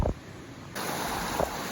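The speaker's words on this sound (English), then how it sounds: "I've reached the 300-foot waterfall." A roughly 300-foot waterfall on a mountain hike near Pagosa Springs, Colorado gives off a distant, broad rushing hiss, with wind buffeting the microphone.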